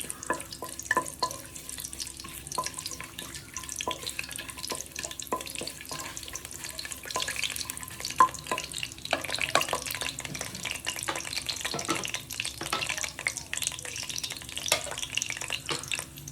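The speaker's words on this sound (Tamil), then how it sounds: "ஏலக்காய் போட்டு இது கொஞ்சம் பொரியணும்." Whole spices (cinnamon, cloves, star anise and cardamom) frying in hot oil at the start of a mutton biryani, giving a steady soft crackle and sizzle with occasional stirring clicks, alone with no talk.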